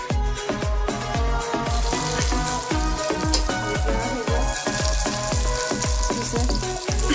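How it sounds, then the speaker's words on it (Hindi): Onions fry in a cup of cooking oil, giving a loud, dense sizzle with a fast, regular pulse of crackling pops throughout, close and without voices. "इसमें प्याज फ्राई करेंगे।"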